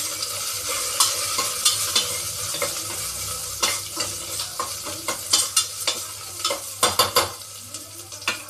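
Curry leaves and coriander stems sauté in a pan for beetroot kootu, a continuous sizzle under frequent clinking stirs of a spoon against the pan, growing busier toward the end.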